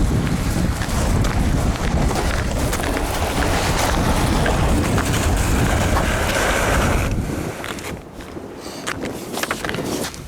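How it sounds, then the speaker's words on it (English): Strong wind on a frozen North Dakota lake roars and buffets the microphone continuously, easing briefly near the end before gusting again. "Oh, it is windy."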